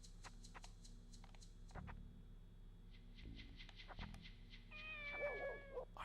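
A kitten meows in the Dreamcast game Shenmue, several faint high cries spaced apart over quiet background sound, ending in a longer, louder wavering meow.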